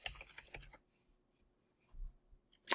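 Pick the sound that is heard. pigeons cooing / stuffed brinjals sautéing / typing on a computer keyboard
typing on a computer keyboard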